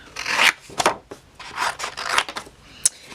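Scissors snip through paper to cut out a small stamped shoe shape, giving close, crisp bursts of cutting and rustling in uneven strokes, with no one speaking.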